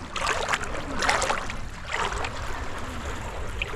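Water laps and swirls steadily around wooden boats kept in the shallows at a rocky island shore near Uttan, a continuous close wash with soft surges.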